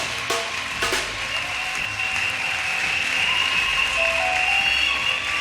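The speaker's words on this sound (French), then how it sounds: "If you're clapping, clap well." A church congregation applauding together, dense sustained clapping filling the room with a few sharper claps standing out, loud and continuous from start to end.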